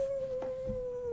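A long single-pitched howl of a wolf, in a tabletop fantasy game scene, holds steady through the short moment, thin and somewhat distant, with a few faint soft knocks beneath it.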